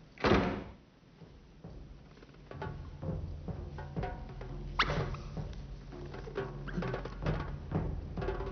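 A door shutting indoors, one firm thud at the start followed by softer knocks, clatter and shuffling handling sounds with no one speaking.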